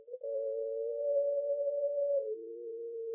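A steady pure mid-range test tone held for about two seconds in an EQ demonstration, then stepping down to a slightly lower pitch and continuing, alone and moderately loud with no talk.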